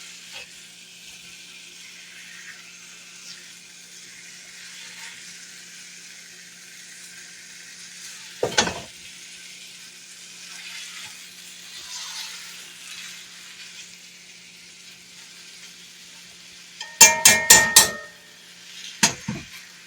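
Sausage sizzles steadily in a frying pan for Southern sausage milk gravy, while a potato masher breaks it up, producing a few sharp metallic clanks against the pan and a quick cluster of knocks near the end.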